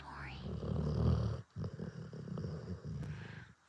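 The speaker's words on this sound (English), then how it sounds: "He's snoring." A small male dog snores with low, rumbling breaths heard up close, one long snore followed by a brief pause and steadier, quieter rattling breaths, and no talking.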